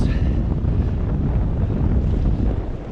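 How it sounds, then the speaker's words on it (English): Strong, steady wind roars and buffets the microphone on a sailboat at a visitor mooring buoy in Orkney, with a low, continuous rumble of water underneath and no pauses. "Very windy."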